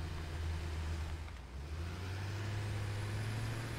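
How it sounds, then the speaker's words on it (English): A low, steady engine drone from a factory cart vehicle in a video game, with a constant hum that dips briefly and then holds as the vehicle rolls up close. "the vehicle just ran me over"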